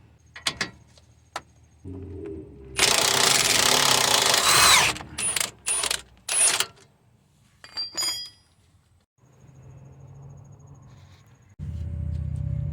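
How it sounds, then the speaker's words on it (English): An impact gun works on a sway bar link nut on a Toyota Sienna, loud rattling bursts of a couple of seconds followed by shorter sharp hits and metallic clinks, then quieter workshop noise. "I'm gonna be using my impact gun here because this is much better here."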